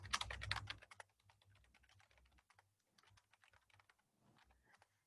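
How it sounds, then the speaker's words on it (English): Typing on a computer keyboard while entering a journal reference, a quick flurry of keystrokes followed by steadier, lighter key taps with short pauses, close and clear with no talk. "I'm going to type my volume number in"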